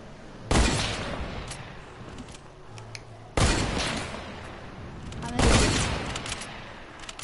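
Three loud, isolated gunshots in a video game, each a sharp crack followed by a long decaying echo, spaced a couple of seconds apart over steady background ambience.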